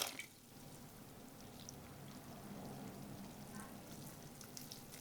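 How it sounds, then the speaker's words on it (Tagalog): Cold water poured into a batter of flour, cornstarch, baking powder and salt, a soft steady liquid splash running continuously at low level for several seconds. "Magbuhos tayo ng malamig na tubig dito."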